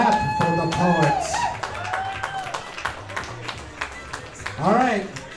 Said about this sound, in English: Clap for the poets.